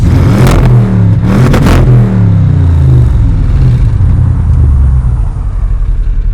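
Audi RS6 with silencer-deleted exhaust, engine revving loudly and close: two sharp blips, then a deep, rumbling, sustained rev that settles toward idle.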